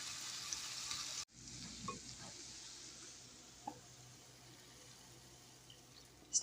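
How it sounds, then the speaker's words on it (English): Ground turkey frying in a pan sizzles quietly and steadily while being broken up, with a few soft scrapes and taps of a utensil against the pan after a brief hiss at the start. "I just want to break up the meat."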